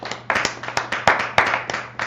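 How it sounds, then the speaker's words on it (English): A small crowd at a street gathering claps in a loose rhythm, with distinct sharp hand claps landing roughly every third of a second, close and fairly loud. "Let's clap it up for the laws of the Most High God."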